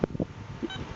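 A metal detector gives short electronic beeps while its ground balance button is held, a couple of tonal blips over faint low handling noise, close and moderately loud.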